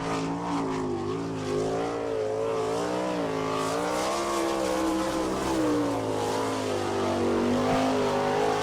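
Race car number 47, driven by Marty Ling from Millersburg, runs a qualifying lap at Attica, Ohio, in an All Star Circuit of Champions event, its engine holding a loud, steady wavering roar throughout with no talk.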